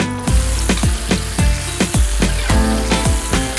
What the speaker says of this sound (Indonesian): Langsung kita goreng saja ke dalam minyaknya yang masih panas.